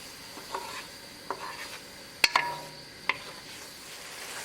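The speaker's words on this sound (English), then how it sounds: "Mix it well." A spoon stirs tomato-based halibut fish curry sauce in a pan over a soft background sizzle, with a few sharp scrapes and clinks of utensil against the pan spaced irregularly and close by, and no talking.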